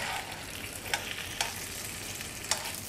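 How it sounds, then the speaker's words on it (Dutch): Bacon frying in a pan for a baguette sandwich, a steady close sizzle with a few sharp crackles and pops spaced through it and no talking. "Hoor eens, heerlijk dat het knappert."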